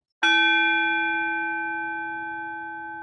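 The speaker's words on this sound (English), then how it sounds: "I'll also periodically ring this bell." A meditation bell is struck once and rings on alone with a clear, sustained tone that fades slowly over about three seconds.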